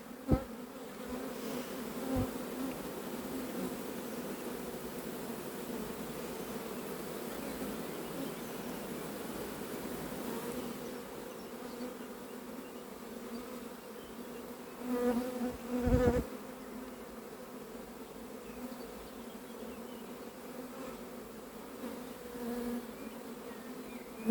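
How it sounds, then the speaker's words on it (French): A swarm of honeybees flies around tree branches during a swarm capture in Varennes-sur-Seine, giving a steady, dense buzzing drone that continues throughout with a few brief louder knocks and rustles. "Là, il y a des abeilles qui volent autour des branches"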